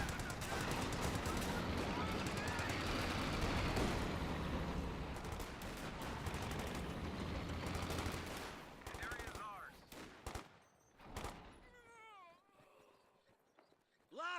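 Company of Heroes 2 battle gunfire: dense, continuous rattling bursts of rifle and machine-gun fire fill the first nine seconds, then thin to scattered shots and chirpy game effects.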